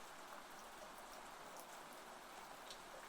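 Steady rain falls outside in a soft, even hiss of drops with occasional brighter patters, faint and continuous with no voices.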